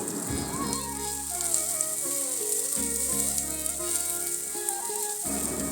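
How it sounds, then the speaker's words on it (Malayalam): Onion sizzling with dried red chillies in hot oil, a steady close frying crackle running throughout with faint background music and no talk. "വറ്റൽമുളക് ഒന്ന് ചൂടായതിന് ശേഷം വലിയ ഉള്ളി ഒന്ന് മൂപ്പിച്ചെടുക്കുക"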